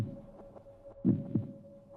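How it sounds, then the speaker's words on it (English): A game heartbeat effect from Steins;Gate 0 thumps as two low, soft beats close together in the middle, over a faint steady hum, with weaker pulses around them. "I can hear my heart beating!"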